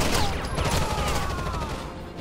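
Rapid gunfire from a loud weapon in Rainbow Six Vegas 2, dense and continuous across the whole stretch, with a busy layered battle texture and no clear gaps between shots.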